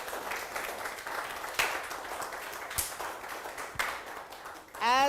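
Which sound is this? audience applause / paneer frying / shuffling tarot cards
audience applause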